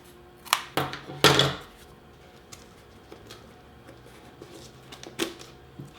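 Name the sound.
scissors trimming off the edge of a cut piece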